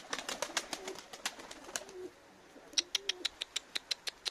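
Pet pigeons cooing nearby, soft repeated coos in the first half, then a quick series of sharp flapping or pecking clicks, with no talk.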